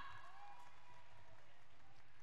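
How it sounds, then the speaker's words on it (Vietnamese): Applause from an audience at a company awards evening honoring the best systems of January 2022, a soft, faint patter of clapping that stays steady and distant for a couple of seconds. "Xin một tràng pháo tay thật lớn để cổ vũ cho núi lửa được không ạ?"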